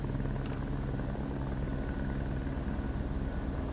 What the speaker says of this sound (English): Several Antarctic programs use helicopters to move cargo and personnel from research stations